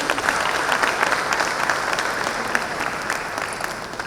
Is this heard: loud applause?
yes